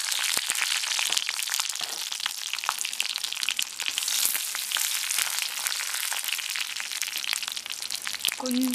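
Fenugreek seeds and dried red chillies frying in hot oil for sambar, a steady close crackling sizzle with scattered sharp pops throughout, no talk.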